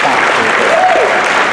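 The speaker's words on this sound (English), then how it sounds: "Please, a huge round of applause for Tom." Loud, close crowd applause at a sheriff's office dinner in Charlotte County, sustained even clapping from many hands with a faint tonal sweep riding through it.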